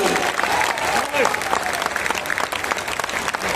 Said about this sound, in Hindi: इतनी तालियों से नहीं होगी साहब, ताली बढ़ाइए तो होगी